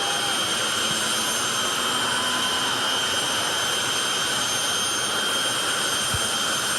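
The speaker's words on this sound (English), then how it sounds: "That's how fast those turbines are spinning in the jet engines." Jet engine turbines of a jet-powered drag car spin at about 18,000 RPM, giving a loud, unbroken roaring whine with a piercing high hiss that holds steady from start to finish.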